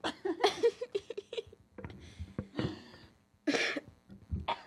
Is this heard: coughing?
yes